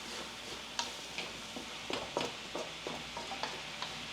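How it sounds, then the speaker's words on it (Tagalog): Pork meat sautéing in a pan for Filipino pork humba: a soft steady sizzle broken by light scraping and clinking taps of a utensil stirring the meat at an irregular rhythm, close and alone. "ang ginagawa natin ngayon, sinasangkot siya natin yung karne"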